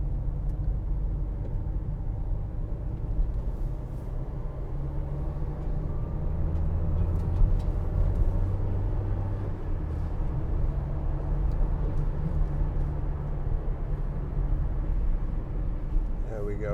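A 2016 Vauxhall Vivaro 1.6 CDTi ecoFLEX BiTurbo Sportive van drives steadily around a roundabout. Its diesel engine and road rumble hold a constant low drone heard from inside the cab, while someone talks over it.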